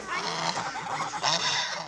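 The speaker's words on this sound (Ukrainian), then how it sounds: "пасуться гуси" Geese honking in a flock grazing on open ground, a dense, continuous chorus of loud, overlapping nasal honks close by, with no pauses across the whole stretch.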